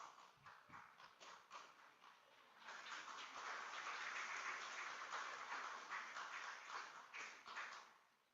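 Audience at a post-budget stakeholder consultation in Mumbai applauding a guest, scattered claps building into sustained, dense clapping that peaks mid-clip and then tapers off.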